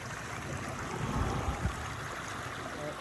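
River water rushing steadily in the bush of Lerderderg State Park, Victoria, a continuous close wash and gurgle with no voices.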